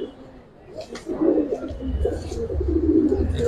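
Giribaj pigeons coo softly inside a loft, low throaty murmurs rising and falling near the microphone while someone talks over them.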